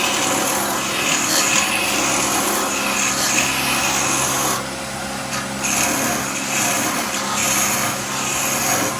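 Wood lathe at about 2,500 rpm turning a fishing float while a skew chisel roughs it forward and back, a steady high motor whine under scraping, rubbing cuts that shift in texture, close and loud throughout.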